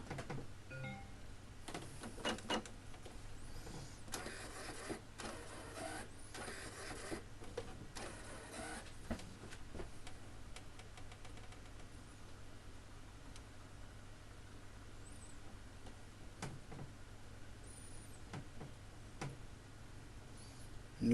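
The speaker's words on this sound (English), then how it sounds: "the printer is just recalibrating itself, working out where everything is" An Epson inkjet printer whirs and clicks through a recalibration cycle after being powered back on, its carriage shuttling in bursts of mechanical ticking, quiet and close with no talking.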